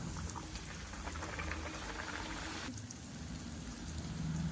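A puri dropped into hot oil bubbles and crackles, a soft, continuous frothy fizz heard close and alone at low volume.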